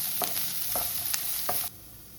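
Ingredients for a creamy malai chicken curry sizzle in a kadai while a spoon scrapes through them in four rhythmic strokes; the frying hiss stays close and loud, then cuts off abruptly, with no talking.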